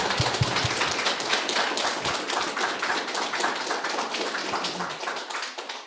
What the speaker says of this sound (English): You can give the applause.